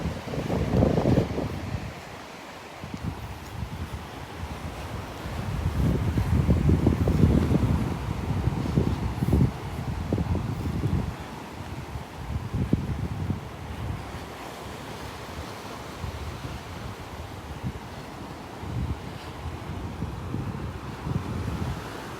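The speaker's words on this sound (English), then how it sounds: "Breezy. Walking into the wind now." Strong wind buffets the microphone on a breezy beach walk from Clam Pass toward Vanderbilt Beach, with waves and surf rumbling underneath in uneven gusts, loud and close throughout.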